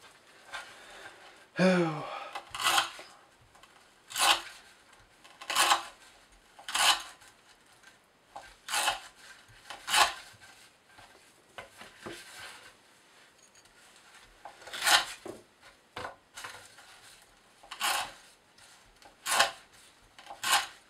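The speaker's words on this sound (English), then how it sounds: "noticeably harder to get through the rope now, having to use much more cutting force" Chris Reeve Sebenza 21 folding knife with an S35VN blade slicing through rope, about a dozen separate rasping cuts at irregular intervals, close and moderately loud with quiet gaps between strokes.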